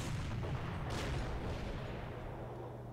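Artillery fires in the wartime strategy game Panzer Corps, a heavy booming blast with a rumbling, noisy tail that slowly decays over a few seconds.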